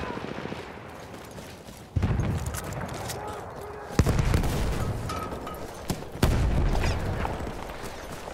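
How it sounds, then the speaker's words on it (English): An enemy machine gun fires in a Battlefield 1 match, heard as loud, close bursts of rapid gunfire repeating every couple of seconds over a constant battlefield din. "That's an enemy machine gun!"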